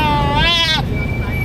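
A large goat at a Rosario, Batangas livestock market gives one loud wavering bleat close by, lasting about half a second, amid market chatter and background noise.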